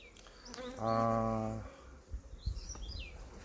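Honeybees buzz around beehives in a Korean apiary, a loud sustained drone swelling in the middle then fading, with bird chirps and scattered bumps around it.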